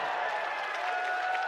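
A wrestling crowd applauds and cheers at a tag-team match, a steady roar of clapping and voices heard from a distance.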